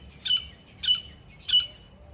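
Wild grey partridges calling outdoors in a village field, three short harsh calls spaced evenly about half a second apart, clear and moderately near over a low background rumble.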